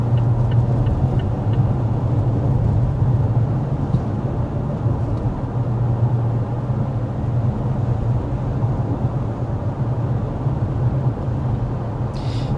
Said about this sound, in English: we're speeding up to 55 miles per hour so we can get our signature sound level reading